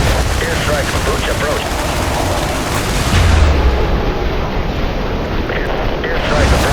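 Airstrike explosions pound the harbor level of the video game IS Defense, a loud, continuous roar of blasts and rumbling with a radio-style voice speaking over it.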